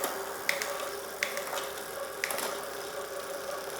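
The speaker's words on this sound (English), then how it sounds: "We're just going to give the cranks a couple of spins. And while we're here, we might as well go through all of our gears." Cranks of an Envo Lynx e-bike spin while its gears are shifted, giving a faint steady whir with a few crisp clicks spaced irregularly through the short span.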